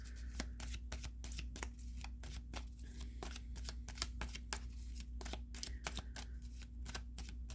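Lenormand cards are shuffled by hand in steady repeated riffles and flicks, a close, soft papery rustle with sharp snaps running continuously under a faint steady hum, with no talking.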